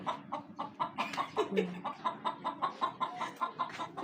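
A hen clucks in a steady, rhythmic series of short pulses, close and moderately loud, with a brief word of speech partway through.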